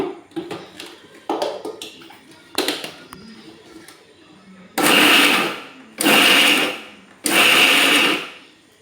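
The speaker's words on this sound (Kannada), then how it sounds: "ಇದನ್ನು ತರಿಯಾಗಿ ರುಬ್ಬಿಕೊಳ್ಳುವ." A mixer grinder coarsely grinds soaked, squeezed-out soya chunks in three loud, close bursts, each lasting about a second, after a run of lighter tapping and clattering.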